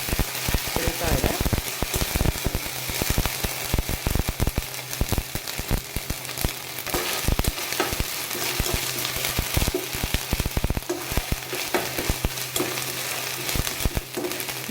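Ginger garlic paste frying in a pan as a cauliflower and potato dish is cooked: a steady, dense sizzle and crackle runs throughout, close and fairly loud, with occasional sharp pops and stirring scrapes.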